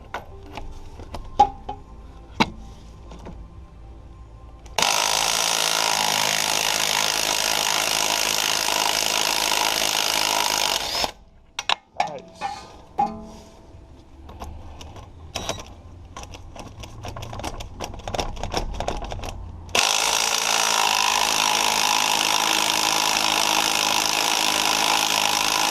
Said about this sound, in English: We'll see if my impact wrench breaks them off.